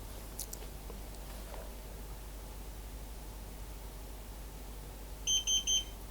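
Three quick high-pitched electronic beeps from a Xiaomi air purifier near the end, following several seconds of steady low background noise.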